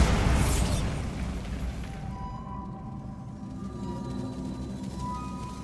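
The Bombarda spell in Hogwarts Legacy sets off a deep blast whose rumbling boom trails off over several seconds into a low, fading hum.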